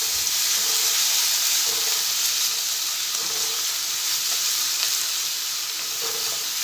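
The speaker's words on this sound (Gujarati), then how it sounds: "અને આપણે 1 મિનિટ જેવા સાંતળી લઈશું" Two medium onions, crushed, sizzle steadily while sautéing in hot oil and butter in a pan, a bright, even frying hiss with faint crackles throughout.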